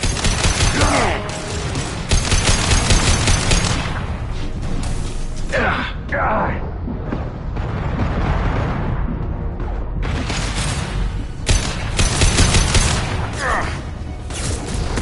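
Video game gunfire for a concussive shot, with bursts of rapid shots and booms in dense clusters near the start, middle and end over a continuous battle din, with voices mixed in.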